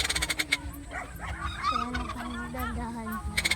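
Several turkeys and peacocks gobble and honk loudly at close range, a noisy overlapping chorus of rapid warbling calls with sharp clucks at the start and end.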